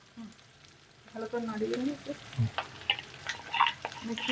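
A spatula scrapes and tosses chilli chicken with soya sauce in a hot pan, quiet at first, then bursts of sizzling and clattering stirs near the mic, with faint voices in the background.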